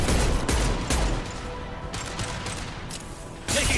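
Bursts of rapid gunfire in the video game Mass Effect 2, several loud volleys in quick succession with brief gaps between them, filling the whole clip.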